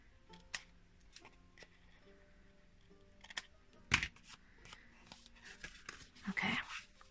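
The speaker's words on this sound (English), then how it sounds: "Those just get snipped off with your scissors." Scissors snip the small tips off a paper card in a quiet room, a few sharp close clicks and cuts spaced irregularly, with faint paper rustling between them.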